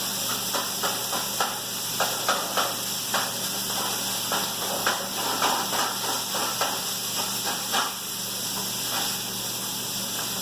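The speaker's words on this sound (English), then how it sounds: "Alright, so my butter is melted. My sausage is going here. We'll stir this up." Sausage frying in melted butter in a pan while being stirred, giving a steady faint sizzle broken by a run of light scraping and tapping strokes from the utensil, close by with no talking.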